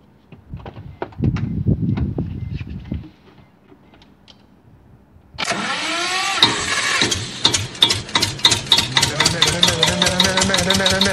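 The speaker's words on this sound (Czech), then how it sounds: "jaký to má zvuk motoru" After some quiet talking and handling noises, a car engine cranks and starts, then runs loudly nearby with a steady, rough idle.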